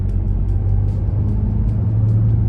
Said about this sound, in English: So pulling away in W12, still a nice sound.